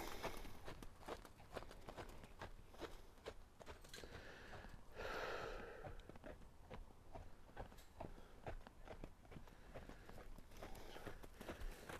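Hooves of a walking horse, a steady run of soft thuds and scuffs over constant broadband background noise, close by, with no speech.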